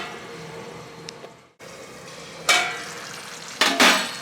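Ridge gourd and egg curry simmers in a pan, a soft low bubbling with two sharper sizzling bursts near the end, quiet and close with no talking.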